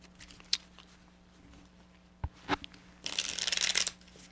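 A tarot card deck clicks and taps a few times, then gets a quick riffle shuffle: a short, dense burst of card flutter, close and fairly quiet with no voices.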